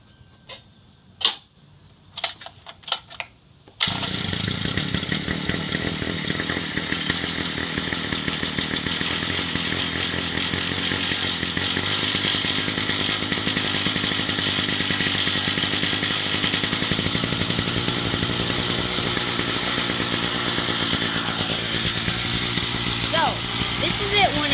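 A Dirt Dog scooter's small engine starts after a few pulls and runs loud and close with a steady, buzzing drone, revving and then settling toward idle, while a person talks briefly near the start.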